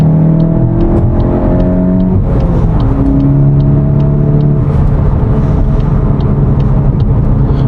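A VW GTI engine with an Integrated Engineering sport muffler revving up and down repeatedly, loud and close, its pitch climbing and falling in several steady sweeps over a constant exhaust drone.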